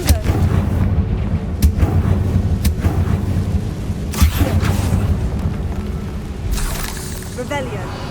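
In Hogwarts Legacy, a Confringo fire spell blasts with a series of loud booming hits over a heavy, busy game soundscape, with crackling impacts and a brighter burst toward the end.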